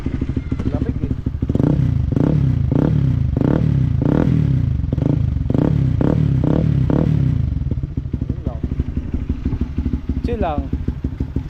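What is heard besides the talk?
Honda CB150X motorcycle engine warming up and revving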